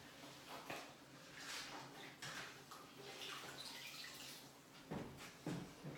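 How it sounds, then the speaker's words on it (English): A wallpapering sponge being rinsed in a bucket of water while hanging lining paper: soft, close splashing and sloshing with dripping, quiet and continuous, a couple of louder swishes toward the end. "get your sponge, give it a rinse."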